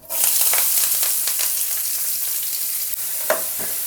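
Onion and curry leaves drop into hot oil with cumin and sizzle loudly and steadily, broken by brief stirring scrapes and a small clink or two, close by with no voices.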